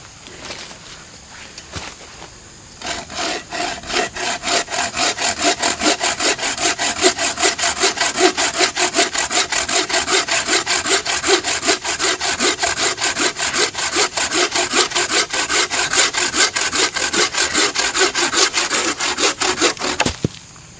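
Trailblazer Sawvivor 18-inch bow saw cutting through a propped tree log, steady rapid back-and-forth rasping strokes, loud and close, running continuously after a brief quieter start.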